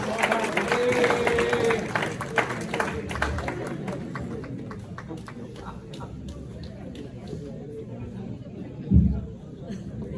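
An audience at a mushaira poetry gathering of a Pakistani American society claps to welcome a poet, brisk applause that tapers off after a few seconds into low murmuring chatter and a single thump.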